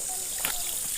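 Water trickles from a spout at an outdoor bathing place, a close, continuous splashing stream with a brief louder gush midway.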